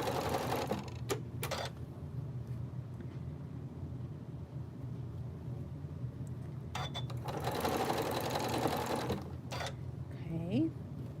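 A home sewing machine stitches fabric for a craft sew-along in a steady, close whirring run, with a few sharp clicks and louder stretches, while a person talks over it.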